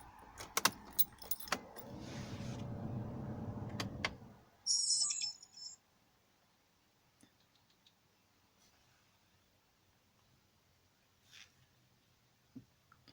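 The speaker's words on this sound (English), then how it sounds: "Right, got the ignition on." Car keys jangle up close for a few seconds, then the ignition is switched on, giving a brief higher electronic chime-like tone, followed by faint sparse clicks in a quiet car interior.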